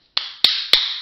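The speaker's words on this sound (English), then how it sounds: "Clap your hands." A child claps hands three times, sharp close slaps spaced roughly a quarter second apart, each with a short ringing tail over a faint tone.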